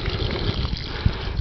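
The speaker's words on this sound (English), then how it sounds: "the water's pouring out onto the grass or into the flowers" Water from a small water wheel spilling steadily onto grass and flowers outdoors, a continuous broadband splash and trickle with a brief thump near the end.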